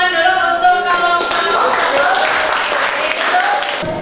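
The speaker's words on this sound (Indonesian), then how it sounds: "beri tepuk tangan dulu untuk kelompok" Classroom students clapping together for a group after its presentation, a lively burst of applause mixed with a speaking voice and a few bright tones running over the clapping.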